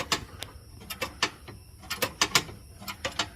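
Hand crank winching the spare tire back up under a Ford E250 van, a series of close, fairly quiet ratcheting clicks in uneven bursts of mechanical clatter.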